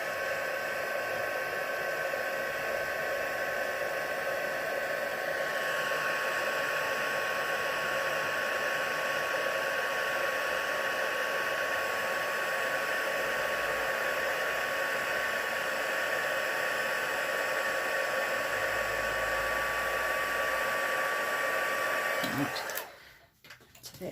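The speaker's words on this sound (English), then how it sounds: "I'll just grab my heat tool and just heat that" A handheld heat tool blows steadily for about twenty-two seconds, heating embossing powder on a floral card, a loud even whirring hiss close by that cuts off abruptly near the end.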